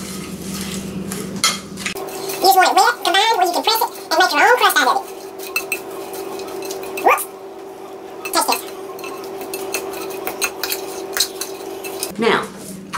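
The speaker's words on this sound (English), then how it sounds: "In goes the butter. All right, stir it all up." Butter being stirred into a cheesecake crust mixture in a bowl, giving close clinks and scraping of a utensil against the dish in bursts, with a steady hum underneath and a few sharper knocks later.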